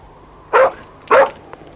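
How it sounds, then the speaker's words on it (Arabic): A dog gives two sharp, loud barks about half a second apart, each short and clear, followed by a faint brief yip in an otherwise quiet room. "إنه كلب ذكي، لقد أنقذ حياتي."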